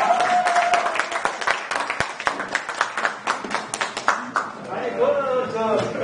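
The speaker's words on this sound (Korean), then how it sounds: "가장 먼저 일어나가지고 박수를 치고 있어요, 지금" Audience at a university alumni gathering clapping for a professor, distinct sharp claps rising to a burst of applause while someone speaks over it.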